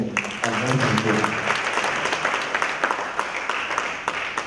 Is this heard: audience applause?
yes